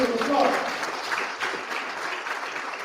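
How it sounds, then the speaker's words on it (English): Audience at a conference on the afterlives of slavery breaks into loud applause, dense clapping that peaks early and slowly thins over about three seconds. "Please give the President of the University of Liberia a big round of applause."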